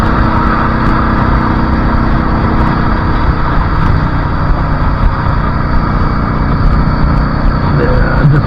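Yamaha V Star motorcycle with a 5-speed gearbox cruising on a Sunday ride, its engine a steady, loud, continuous rumble with constant wind roar and no break throughout.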